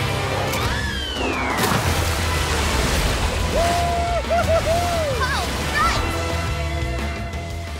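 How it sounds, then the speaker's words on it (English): Cartoon ocean waves wash and slosh in a continuous, loud surf bed, with whooshing sound effects and synthetic tonal swoops layered over the water. "We can get energy if we surf up and down on those ocean waves."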